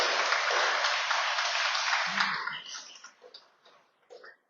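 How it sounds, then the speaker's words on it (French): Audience applause for local volunteer associations at a convention-signing event in Goyave, a dense steady clapping that holds for about two seconds and then thins out into scattered claps before it stops. "vous demander d'applaudir ces associations"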